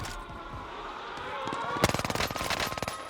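An STG assault rifle fires in the video game Warzone, a rapid burst of around a dozen evenly spaced, loud punchy shots after a stretch of low in-game ambience.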